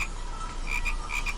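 A group of frogs croaking together by a big pit, several quick overlapping croaks in rapid succession, steady and moderately loud with no voices.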